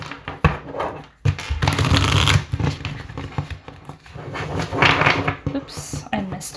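Tarot cards of a fantasy-themed deck riffle- and bridge-shuffled by hand close up, with rapid flapping bursts and soft card slides, followed by a brief bridge whir near the end, with soft speech.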